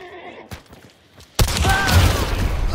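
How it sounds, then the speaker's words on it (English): Gunfire in Hunt: Showdown 1896, a sharp burst of shots cutting in partway through and giving way to a loud, sustained rumble after a quieter stretch of scattered thumps. "Dude, how many times I gotta shoot this fucking guy"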